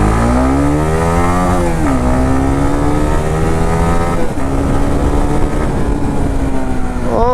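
A 2021 Honda CBR 150R with dual-channel ABS accelerates along a road. Its engine pitch climbs steadily and drops briefly at each gear change, loud and close throughout, with no talking.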